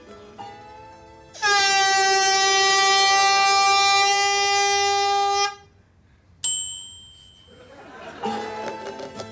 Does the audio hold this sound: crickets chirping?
no